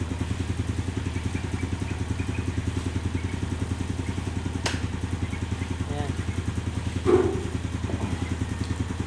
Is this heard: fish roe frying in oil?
no